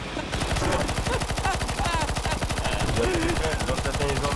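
Rapid automatic AK rifle fire from a CS:GO zombie escape match, a dense, steady stream of loud close shots running nonstop, with muffled voices underneath.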